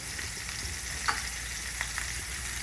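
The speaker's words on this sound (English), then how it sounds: "So I have the pan cooking, on medium, of course." Halibut sizzles in a pan over medium heat, a steady, fairly loud frying hiss with a couple of faint pops and clicks, no voices.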